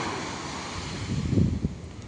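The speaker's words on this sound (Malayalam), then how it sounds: "ഇതാ ബേപ്പൂര് ബീച്ചിൻ്റെ കടലാണിത്" Sea waves wash onto Beypore Beach with a low rushing swell under steady wind noise, one surge building louder midway.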